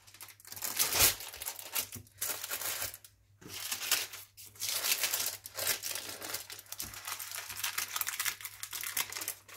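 Baking paper is peeled off a freshly baked génoise swiss roll sponge, soft close crinkling and tearing rustles coming in short bursts with brief pauses.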